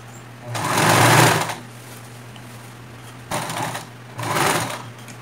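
A sewing machine stitching and backstitching a tulle tutu skirt with ribbon, running in three short close bursts of rapid whirring with pauses between them and a steady low hum underneath.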